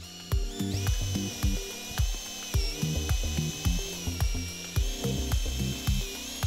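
A mixer drill with a paddle whirs with a steady high-pitched whine while churning thick liquid flashing coating, Alsan Flashing Quadro, producing repeated rhythmic low thumps and knocks throughout.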